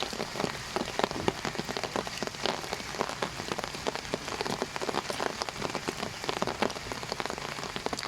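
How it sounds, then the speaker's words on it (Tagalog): Heavy rain pours down continuously, a dense, even hiss of drops striking surfaces at close range with no pauses and no voices. "Tugay ulan."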